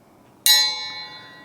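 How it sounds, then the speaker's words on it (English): A single bright bell strike rings out sharply and close, its metallic tone decaying over about a second, alone against near silence. "ring the bell, and Mushy, the cowboy cook, will see you do"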